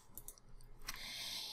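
Computer mouse clicks while using the blend tool in Adobe Illustrator: a few faint, sharp clicks, two close together, then one more, followed by a steady soft hiss.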